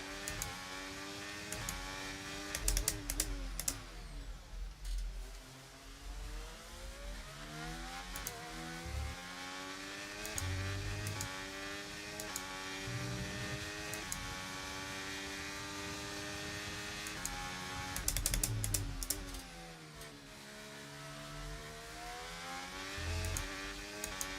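A race car engine in a racing video game accelerates up to speed, a loud continuous whine whose pitch climbs and swoops repeatedly through gear changes, with brief harsher bursts and no voices.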